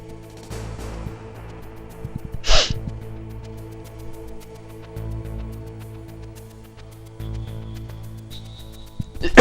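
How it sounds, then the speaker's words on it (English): A single sharp sneeze bursts out near the middle, over a quiet hum of background music from the game Metal Gear Solid. "Just had a sneeze there."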